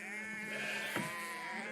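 A sheep bleating close by, one sustained wavering call that fills the moment, with no talking over it.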